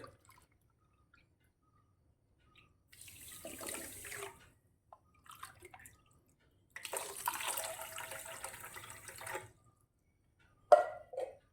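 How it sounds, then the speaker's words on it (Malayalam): Water poured into a container of sugar in two separate pours, a close, soft trickling stream with quiet pauses between. "പഞ്ചസാരക്കകത്തേക്ക് വെള്ളം ഒഴിച്ചു കൊടുക്കാവേ."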